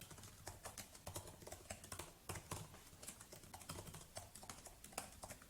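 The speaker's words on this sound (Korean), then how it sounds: "타이핑을 해볼게요" Steady rapid clicking of keys on a computer keyboard, a continuous close-up stream of typing strokes, fairly quiet and with no talking.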